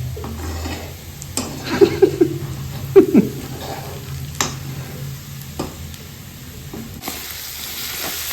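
A ladle stirring sizzling food in a pan before mushrooms go in, with soft frying under scattered clinks and scrapes of metal against the pan.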